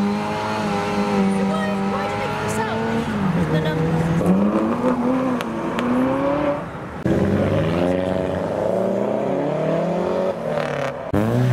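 A Mini's engine revs and climbs through the gears, a strained whine rising and falling as it accelerates hard, with a brief dip midway.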